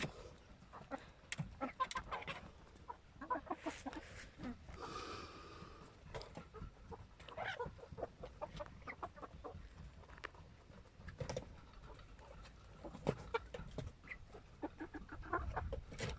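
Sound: chickens clucking

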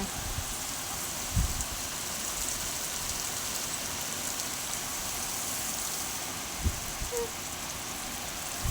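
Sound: heavy rain falling

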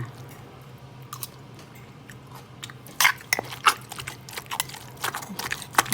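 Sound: tasting and chewing green tomato soup

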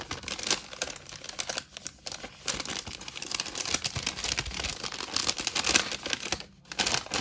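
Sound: opening a gift package, plastic wrapping crinkling

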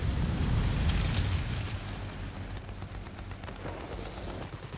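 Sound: gunfire from planes in World of Warplanes video game

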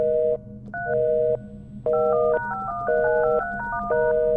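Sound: telephone dialing a call to the police in video game LUTO

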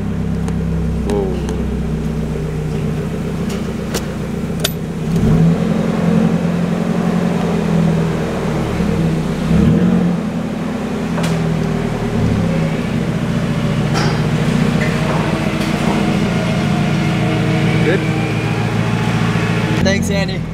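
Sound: Nissan 240SX engine revving with blast pipes exhaust

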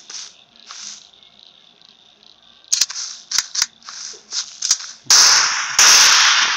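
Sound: gunfire in Bigfoot Monster Hunter video game

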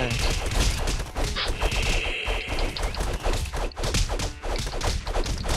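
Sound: bow shots in a video game

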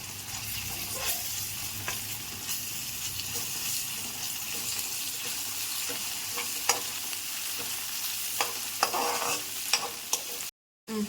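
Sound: ginger garlic paste frying in a pan

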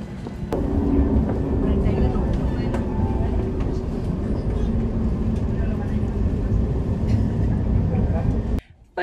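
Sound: riding a tram in Zaragoza

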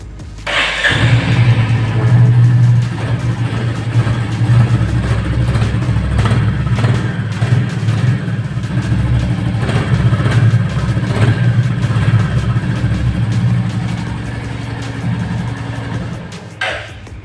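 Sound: Royal Enfield Classic 350 motorcycle engine starting and running

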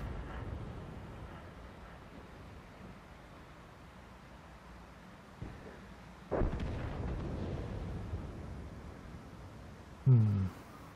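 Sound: artillery fire in the video game World of Tanks

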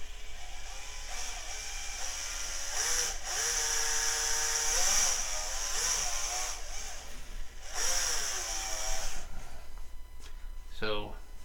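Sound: drilling with a thin drill bit

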